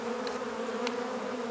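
Honey bees drone steadily at an opened hive during inspection, a close, unbroken buzz with faint brief clicks above it and no voices.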